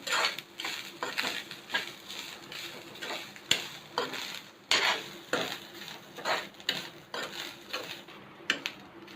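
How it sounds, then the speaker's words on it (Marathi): Dry and fresh grated coconut being stirred and roasted in a pan over high heat: repeated scraping and clinking of the spoon against the metal pan in an uneven rhythm, close up, with a faint sizzle underneath and no voices. "सुका खोबरा आणि ओला खोबरा मिक्स करून भाजत आहे मी"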